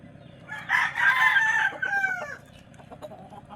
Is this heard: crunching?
no